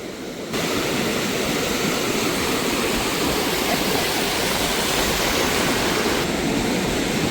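Rough sea surf pounds Murud beach during a cyclone, a loud, continuous roaring wash of breaking waves close by, with wind noise and no clear pauses.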